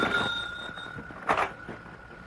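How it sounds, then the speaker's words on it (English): An office telephone rings in a 1951 radio drama, a steady electric bell tone that sounds near and then stops, with no talk over it. "That's the phone ringing in your office, Jones"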